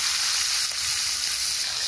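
Hilsa fish pieces, including head and tail, frying in hot mustard oil in a kadai, giving a steady, close, broadband sizzle that holds evenly throughout with no talk.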